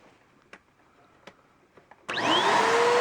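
A Bissell Powerglide vacuum cleaner with a faulty brush motor is switched on after a few soft clicks and handling taps, then runs with a loud, steady motor roar and a rising whine.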